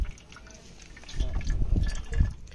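Flushed engine oil mixed with diesel drains from a bike engine, a soft liquid trickle and splatter that swells into heavier gushes, fairly faint and close with no talking.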